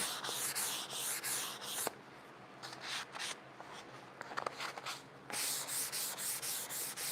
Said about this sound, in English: So we're just scuffing it, right? We're just scuffing.